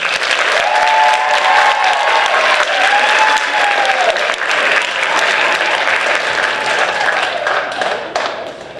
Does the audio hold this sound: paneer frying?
no